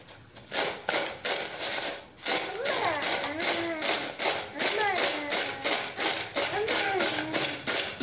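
Crispy fried potato chilli being crunched up close, a steady run of sharp broadband crackles and snaps repeating roughly every half second, with faint voice-like tonal sounds in the background.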